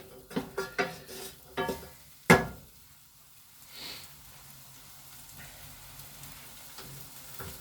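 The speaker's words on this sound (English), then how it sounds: "Go back to these onions, they're starting to fry already" Onions fry in a pan with a faint, low sizzle beneath sharper clinks and scrapes of utensils against cookware, including one loud knock.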